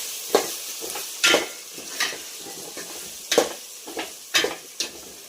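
Onion-garlic masala with garam masala and salt fries in a pan, a steady sizzle punctuated by repeated sharp scrapes and clinks of a spoon stirring close by.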